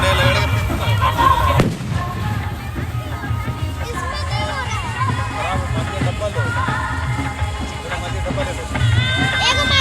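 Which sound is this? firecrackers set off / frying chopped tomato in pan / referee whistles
firecrackers set off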